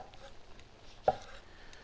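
One quick knife stroke through cucumber on a cutting board, cut at an angle in a home kitchen, a single soft close chop against faint room noise.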